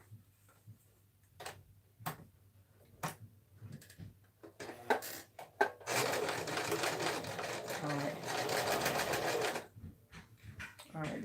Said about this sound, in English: on this very basic one, I am going to use the zigzag stitch